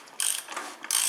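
A socket ratchet clicks while tightening the oil filter cap on a Volkswagen Touareg TDI, two quick bursts of sharp ratcheting separated by a brief pause, close and clear with no talk.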